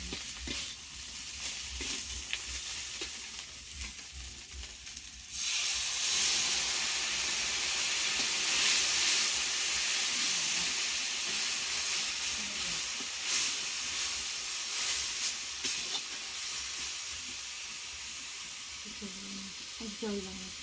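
Spice paste (koshano) sizzling in hot oil as it cooks down, starting quiet with faint stirring, then a loud steady hiss and crackle that swells and persists, with occasional scraping of the spoon.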